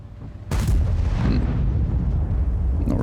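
A World of Tanks E100 main gun fires one heavy, close blast that cuts in abruptly after a quieter half second, followed by a long rumbling tail of echo and a faint later pop.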